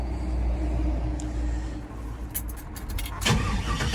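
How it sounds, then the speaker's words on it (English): A 1970 Chevelle pro touring car with a fuel-injected LS engine cranks and settles into a steady low rumble at close range, with a sharp click near the end. "all you got to do is turn the key in the on position"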